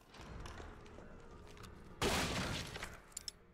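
A sudden burst of gunfire in Resident Evil 3 Remake cuts in midway after a steady background rumble, with a couple of sharp follow-up shots near the end.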